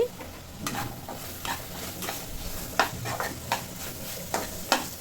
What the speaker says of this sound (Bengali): এখন আমি আলু কুচিগুলো দিয়ে দিচ্ছি